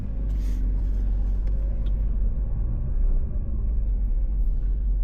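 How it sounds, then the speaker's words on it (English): A 25-year-old Ford Focus drives along a road, heard from inside as a steady low engine and road rumble that holds level throughout, with no talk. "Let's take the car out, get it up to temperature. Let's try and get some speed."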